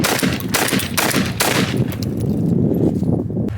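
Rapid gunfire from a GForce Arms GF4 semi-automatic shotgun shooting Remington 3-inch Nitro Turkey 1 7/8 ounce loads, a quick string of loud close blasts with ringing echoes and no talk.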